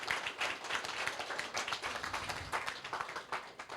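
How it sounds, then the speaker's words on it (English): Applause at a government e-launch ceremony, fairly faint and uneven, with individual claps from a small crowd audible as distinct taps in a loose, irregular rhythm. "I think we need to give him a round of applause."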